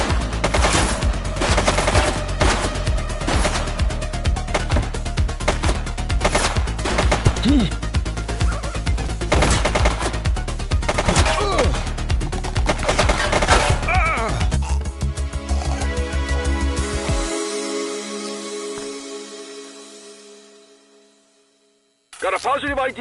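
Rapid bursts of gunfire from a shooting suspect in the police video game The Precinct, loud and sustained through most of the stretch over game music, then fading out before a brief return.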